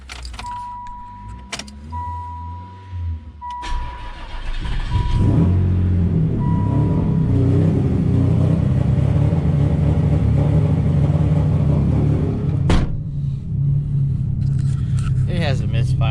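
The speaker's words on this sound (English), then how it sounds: "It has a misfire or something going on with the... It's got a crazy idle" A Ford Probe with a misfire cranks, catches and settles into a loud, rough, uneven idle close by, preceded by door and key clatter, with someone talking over it.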